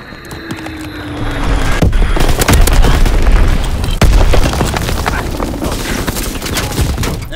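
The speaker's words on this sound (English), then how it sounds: "Enemy bomb incoming! Get to cover!" An enemy bomb explodes during Call of Duty WWII gameplay: a loud, deep booming blast with rumbling bursts and crackling gunfire-like pops, sustained for several seconds before tapering slightly.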